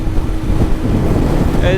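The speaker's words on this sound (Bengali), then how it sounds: "প্রচুর বাতাস প্রচুর মানে কি বলবো মনে হচ্ছে বাইক উড়িয়ে নিয়ে যাবে" Strong wind buffets the microphone during a Honda Livo 110 motorcycle ride across the Jamuna Bridge, a loud, continuous low roar of rushing air with the engine hum underneath.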